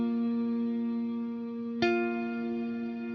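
A clean electric guitar chord from an amp modeler's stock clean tone, with large space reverb, rings out steadily, then a fresh strum is struck near the middle and sustains evenly to the end, with no voices.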